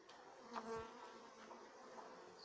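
Honey bees buzz softly at a hive, a faint, close, continuous drone with a few louder passes as individual bees fly near, and no talking.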